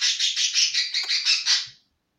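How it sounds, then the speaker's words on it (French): A pet bird gives a quick run of about eight bright, rhythmic chirping calls, close and clear, then stops abruptly into silence. "Alors ça, c'était un de mes oiseaux."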